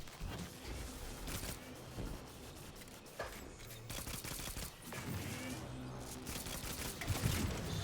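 Rapid gunfire from shooting enemies in the sci-fi shooter Destiny 2 forms dense, continuous volleys of crackling shots under busy game effects, fairly quiet overall and without pauses.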